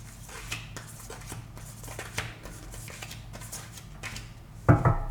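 Tarot cards are shuffled by hand at close range in a run of soft, rapid riffles and slides, ending with a brief louder thump as the deck is set down.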